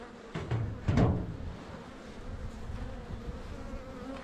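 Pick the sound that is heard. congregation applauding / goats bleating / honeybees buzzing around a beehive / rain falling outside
honeybees buzzing around a beehive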